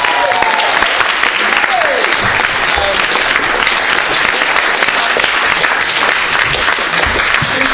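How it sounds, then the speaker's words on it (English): A live audience at a literary reading applauds loudly and continuously, a thick close clapping texture with a few scattered voices underneath. "Give her another round of applause."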